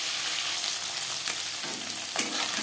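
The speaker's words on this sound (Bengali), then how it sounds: "মাছ হালকা করে ভেজে নেব।" Marinated tangra fish lightly frying in hot mustard oil, a steady close sizzle with soft bubbling crackle throughout and a brief stir or shift of the pieces near the end, no voices.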